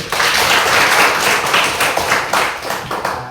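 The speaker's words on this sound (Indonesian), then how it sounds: "Ya, kita tepuk tangan semua dulu." A class of students clapping together in steady, dense applause that carries on throughout without pause.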